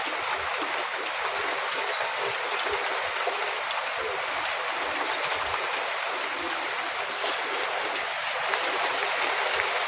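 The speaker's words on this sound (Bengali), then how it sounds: "এবার পরিষ্কার করে ধুয়ে নিয়ে চলে আসবো" Steady rushing water runs continuously as fish is rinsed clean at a village fish stall, a broad splashing wash with no pauses and no talk.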